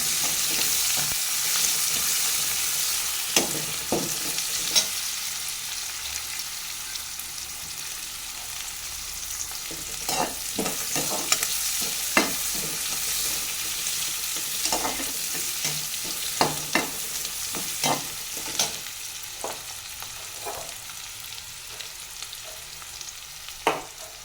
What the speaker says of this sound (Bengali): পেঁয়াজগুলোকে ভালো করে ভাজবো যতক্ষণ না সুন্দরী বাদামি রং হয়ে যায়।